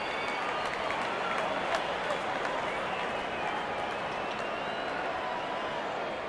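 Steady crowd applause from a cricket video game fills the stadium ambience, a dense, even wash of clapping and crowd noise that holds at constant level throughout, with no voices on top.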